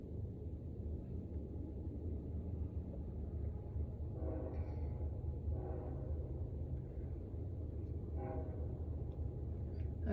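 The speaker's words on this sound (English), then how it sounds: "I hear the train." A train passes at night with a continuous low rumble of rail cars, somewhat distant, while a few brief horn-like tones rise over the steady roar midway through.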